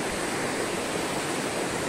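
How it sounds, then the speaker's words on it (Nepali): The Melamchi river rushes through a valley in Sindhupalchok on the Helambu trek, a loud, steady roar of churning water, close and unbroken. "यो चाहिँ मेलम्ची खोला रहेछ"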